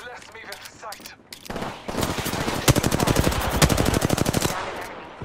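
Rapid automatic gunfire in Apex Legends during a ranked match, a loud sustained burst of closely spaced shots after brief game voice lines and lighter shots at the start.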